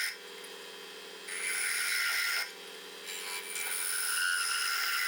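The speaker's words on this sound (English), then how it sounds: "Now a lathe on which I turn the stick." Wooden stick turning on a lathe in a woodworking shop: a continuous dry scraping and rasping, alone and fairly loud, swelling and easing in a few long strokes.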